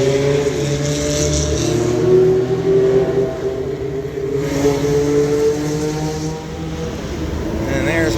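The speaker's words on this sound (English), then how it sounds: "Oh, that Corvette LS engine" Corvette C5 race car with an LS V8 rumbling loudly close by in a Road Atlanta paddock, its engine note wavering and rising through several revs over about eight seconds.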